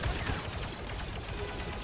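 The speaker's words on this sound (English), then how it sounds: "I'm swapping to that minigun because it's just not fair" A minigun in the VR game Contractors fires in a dense, continuous roar of rapid shots. The burst is close and loud and runs unbroken for a couple of seconds, with no speech.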